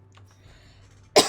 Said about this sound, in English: That particular cough came out of nowhere, and I could not mute myself in time